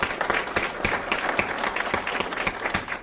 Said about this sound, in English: a round of applause for them one more time